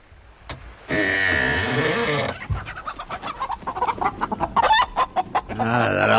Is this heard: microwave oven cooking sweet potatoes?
no